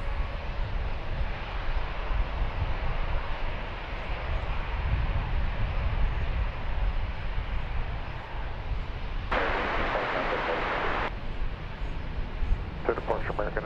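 A plane on its approach to DFW Airport makes a low, steady engine rumble that builds, with a short burst of radio chatter partway through.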